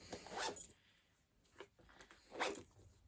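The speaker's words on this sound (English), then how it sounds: "Is this zipper broken? Did I zip it?" A zipper on a large shoulder handbag with card pouches is pulled in short rasping strokes, three separate bursts close by, the second one brief and faint, with no talking.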